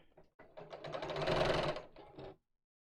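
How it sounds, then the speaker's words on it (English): A sewing machine runs in a steady mechanical whir while stitching the side seams of denim jeans, building up briefly, then slowing and stopping after a short second burst, close and clear. "just going to match the seams up at the side there, and then we'll sew"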